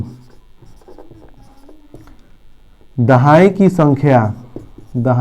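Writing on a board during a maths lesson: a quiet, continuous scratching of strokes for about three seconds, after which a voice speaks loudly over it.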